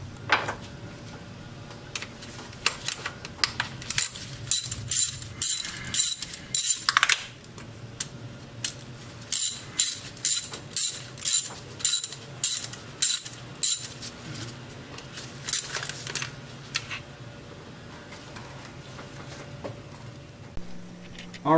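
Ratchet clicking as it loosens the ignition coil bolts on a 2005 Toyota Tacoma 4-cylinder engine, sounding as close bursts of rapid metallic ticks in several separate runs with short pauses between them.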